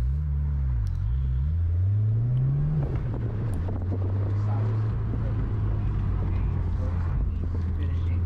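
A 2020 Subaru WRX runs an autocross lap, its engine droning loud and close with pitch rising and falling through gear changes, under a man's speech.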